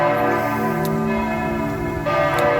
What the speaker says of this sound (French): on va écouter les cloches